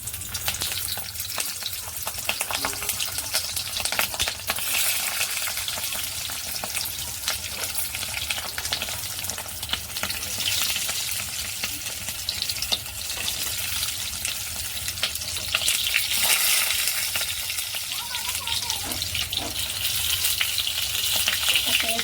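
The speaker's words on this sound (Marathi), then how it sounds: "आता पहिलं तेल गरम झाले आणि आपण ही एक एक मिरची ह्या तेलावर फ्राय करून घ्यायची" Stuffed green chillies fry in hot oil, a steady close sizzle and crackle running unbroken throughout with no voices.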